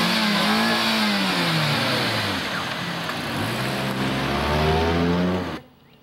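A car engine revs hard in a drag race, a loud, close, sustained roar with pitch rising and falling through several gear-like sweeps before cutting off abruptly near the end.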